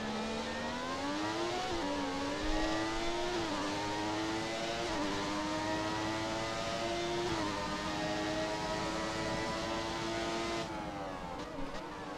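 Open-wheel race car engine in the F1 2017 video game, revving steadily at high pitch with small dips as gears shift, loud and continuous throughout with a slight drop near the end.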